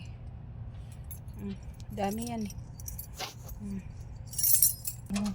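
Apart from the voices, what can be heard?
bunch of keys jangling while locking a door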